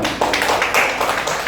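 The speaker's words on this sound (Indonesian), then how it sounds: "Tepuk tangan dulu." A burst of hand clapping from a group, dense and steady, with brief louder swells throughout.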